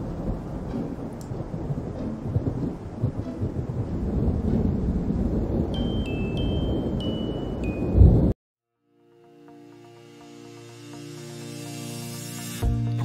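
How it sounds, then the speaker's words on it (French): A tropical thunderstorm with squalls: steady rumbling thunder and rain noise, then a sudden cutoff and a faint swell toward the end. "puis affronter les grains et les rafales sous les orages."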